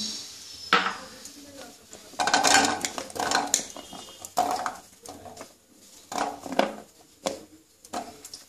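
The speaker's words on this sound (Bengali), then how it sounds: "প্রথম গ্যাসটা জেলে দিয়েছি আমি প্রথমে আলু দিয়ে দিচ্ছি" Potatoes going into a pan on a lit gas stove, with clattering knocks and scrapes of utensils against the pan in irregular bursts, close by, with a little faint background voice.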